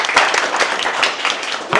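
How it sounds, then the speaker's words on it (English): An audience at a tech demo day gives a round of applause, dense clapping that runs steadily through the moment with a few louder claps standing out. "So let's give a proper round, a respectful round of applause."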